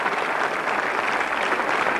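Studio audience on a 1993 Greek television game show applauds in a dense, steady burst of clapping that fills the whole moment at an even, fairly loud level with no voices on top.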